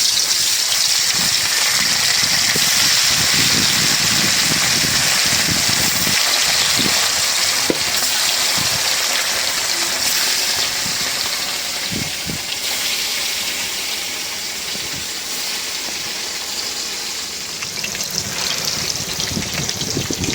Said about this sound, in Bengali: তো এই যে তেলটা গরম হয়ে গেছে, মাছ দিয়ে দিই।